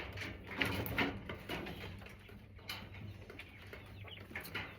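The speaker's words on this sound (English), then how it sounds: "And you can also hear the males crowing, like in the background." Male quails crow faintly in the background, with a few scattered, distant calls over a low, steady ambient noise and no talking.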